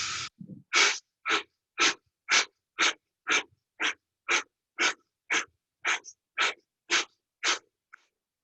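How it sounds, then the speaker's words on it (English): Forceful breathing during an exercise session: about fifteen sharp, evenly spaced breath bursts in a steady rapid rhythm, close and clear with no talking. "breathing in."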